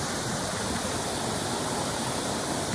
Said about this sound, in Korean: 지금 비가 와서 예, 폭포가 예, 생기고 있습니다